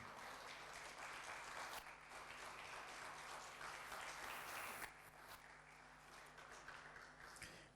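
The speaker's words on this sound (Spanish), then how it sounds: "Un fuerte aplauso para el Señor." A church congregation applauds during a Spanish-language worship service, giving a steady, fairly soft wash of many hands clapping that swells slightly, then eases off toward the end.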